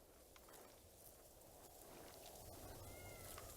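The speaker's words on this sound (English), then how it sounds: "Let me pet 3 cats." A cat meows in the video game Ghost of Tsushima while being petted on Iki Island: a very faint, short mew over a quiet bed of ambient game noise.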